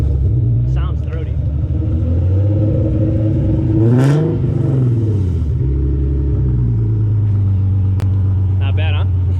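A retuned Nissan 370Z Nismo engine revs loudly, one sharp rise and fall in pitch near the middle over a steady throaty idle rumble, with people talking throughout.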